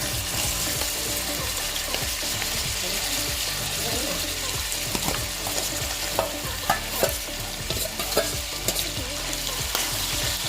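Chopped fat fries in a pan with a strong, continuous sizzle and crackle, punctuated by sharp pops and a few utensil knocks, close and loud.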